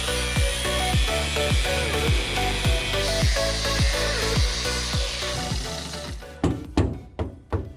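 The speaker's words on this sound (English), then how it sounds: "We cut it out, all the rust." A power cutting tool slicing out rusted sheet metal on a Toyota Land Cruiser BJ40, a loud continuous grinding whine with repeated rhythmic surges, ending in a few sharp clanks.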